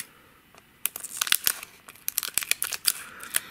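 A base set Pokemon booster pack, resealed and Blastoise art, is cut across the top: a run of sharp crinkling foil snips and tears, close and moderately loud, with no voices.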